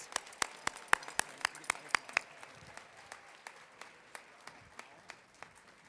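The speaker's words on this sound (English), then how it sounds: "Let's give everyone a round of applause" Applause for top influencer award nominees at a live event: a run of sharp, evenly spaced claps up close, then thinner scattered clapping that fades, moderately quiet.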